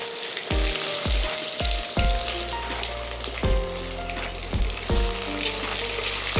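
Onions frying in oil in a pan while a river-fish besara dish is cooked, giving a steady close sizzle with a few louder crackling bursts and no talking.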